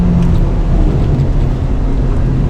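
The turbocharged engine of a 2025 Acura Integra Type S drones loudly and steadily from inside the cabin while driving, a deep, even rumble with road noise and no speech.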